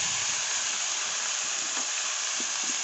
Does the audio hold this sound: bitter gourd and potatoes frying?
yes